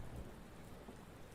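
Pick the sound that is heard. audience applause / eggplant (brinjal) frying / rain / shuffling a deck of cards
rain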